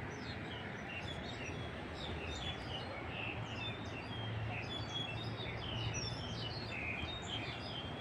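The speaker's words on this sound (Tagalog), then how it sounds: "Ang daming ibon." Many birds chirping outdoors, scattered high tweets and calls from several birds at a moderate distance over a low steady background hum.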